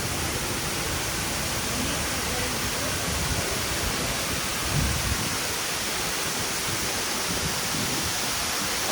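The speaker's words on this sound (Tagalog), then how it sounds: "Khorfakan yung waterfall" Waterfall at Khorfakan in the UAE, a loud, continuous broadband rush of falling water filling the scene without pause.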